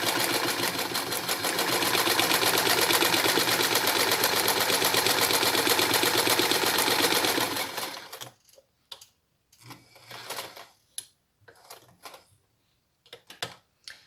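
Sewing machine running a long straight quilting seam, loud and continuous for about eight seconds, then short intermittent bursts with pauses between.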